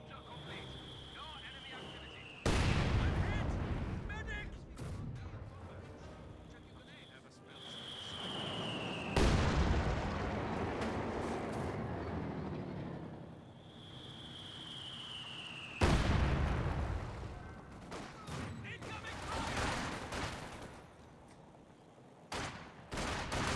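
Artillery barrage in the video game Company of Heroes 2: three heavy booming impacts several seconds apart, each followed by rumbling debris and a whistling shell, with a commentator talking over the action.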